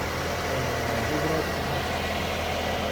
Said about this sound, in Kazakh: Мотор мықты істеп тұр дейді Расул.